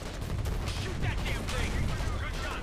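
Gunfire in the Foxhole war game crackles in dense, rapid bursts of mixed shots and blasts, loud and continuous under voices calling out.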